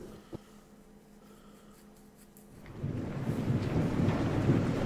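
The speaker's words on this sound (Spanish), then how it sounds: "es de noche y encima está cayendo una tormenta" A thunderstorm in the video game Dying Light arrives as quiet ambience with a small knock, then swells after about three seconds into a steady roar of heavy rain and rumbling wind.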